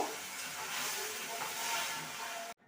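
A splash of water hits hot caramelized sugar in a pan, producing a soft, broad, steady hiss that runs for a couple of seconds before stopping abruptly.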